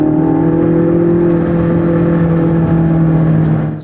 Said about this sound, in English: The sound of blowing turbines, the light sand that flies off from the tires and hit the fenders